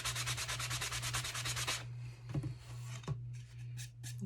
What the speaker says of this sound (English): a crazy amount of sanding noise